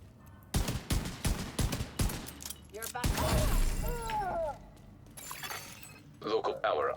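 Pistol gunshots in a video game: a quick burst of several sharp close shots with breaking and shattering impacts, followed by scattered effects and shots amid busy game audio, with voices talking over it.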